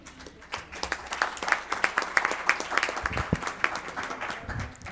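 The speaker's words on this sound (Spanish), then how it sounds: "Un aplauso para todos." An audience bursts into applause, a dense patter of many hands clapping steadily, fairly close, with a few voices mixed in near the end.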